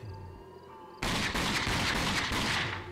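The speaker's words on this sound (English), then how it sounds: "so I'm just gonna use a pistol" Rapid bursts of pistol fire from the video game Rage, loud and dense, starting abruptly after a quiet moment and continuing steadily to the end with no talk.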